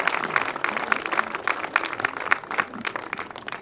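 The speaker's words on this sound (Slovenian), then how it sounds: "jaz pa vas prosim še za en aplavz" Audience applause at an outdoor commemoration of the Day of Uprising Against the Occupier, a steady patter of many hands clapping at moderate distance, a few sharper claps standing out through the crowd.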